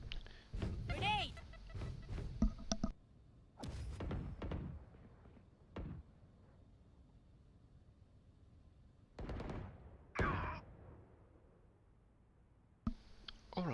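Vandal rifle fire in the video game Valorant, coming in several short bursts of sharp, loud shots separated by quieter stretches with faint game sounds.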